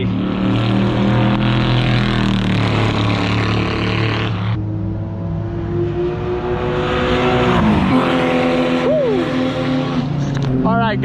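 Panoz race car passing on a track during a track event, its engine note swelling and dropping as it goes by with a pitch sweep, loud and near, with some voice underneath.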